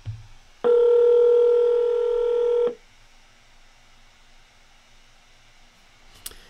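A phone places an outgoing call, giving a steady, loud ringback tone for about two seconds after a brief click, then quiet line hiss and a faint click at the end.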